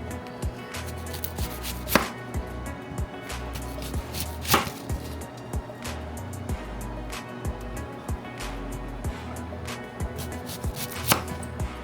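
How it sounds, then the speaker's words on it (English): A knife chops through a red onion on a board, cutting it into thin slices with a steady run of close, sharp taps and a few harder thumps, no talking. "then cut them into like thin slices"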